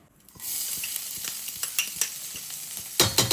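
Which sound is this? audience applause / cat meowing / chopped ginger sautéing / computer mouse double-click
chopped ginger sautéing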